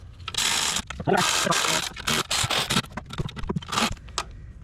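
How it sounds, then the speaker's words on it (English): Ratcheting wrench tightening the throttle body bolts on a Chrysler Pacifica, a run of rapid clicking ratchet bursts with short pauses between them, close and fairly loud with no talking. "Line it up, run your bolts in."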